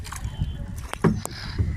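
A rowing boat moving on a branch of the Padma river, with close irregular splashes and knocks of oars in the water over a low rumble, and no clear talking.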